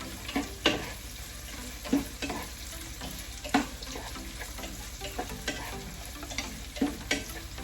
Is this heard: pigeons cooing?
no